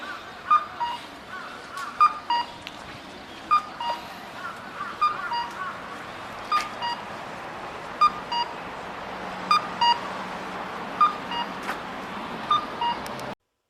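A Japanese pedestrian crossing signal for visually impaired people chirps steadily, evenly spaced electronic beeps repeating about every second and a half over a busy street hum.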